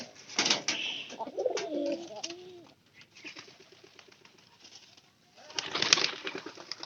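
Pigeons in a home loft coo in low bubbling phrases, with a burst of wing flutter near the start and another near the end, close and moderately loud.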